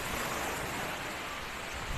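Sea waves wash onto the beachfront at Station 2 on Boracay Island, a steady, even broadband wash with no distinct breaks, mixed with light wind noise at the microphone.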